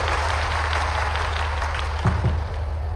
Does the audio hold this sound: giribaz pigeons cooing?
no